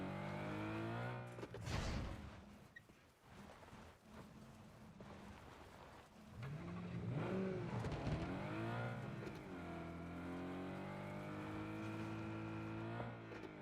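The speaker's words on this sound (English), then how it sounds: "So it's a '08 E90 M3 6-speed." A 2008 BMW E90 M3 with a six-speed manual runs its engine loudly and steadily, with harmonic tones that rise and fall as it revs, including a sharp burst near the start and a sweeping climb midway.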